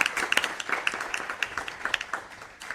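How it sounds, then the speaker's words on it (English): A modest round of applause for a panel co-host at an anniversary event, with individual claps distinct and close, uneven in rhythm and thinning toward the end. "So, round of applause for Livy."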